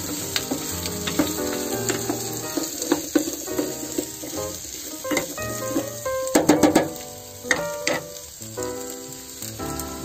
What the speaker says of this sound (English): See, look at the color, guys, huh? It looks very nice.